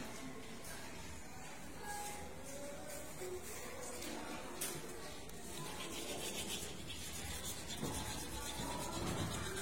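Sandpaper rubs over a duck egg's shell, a close, steady scratchy scraping that runs without pause the whole time.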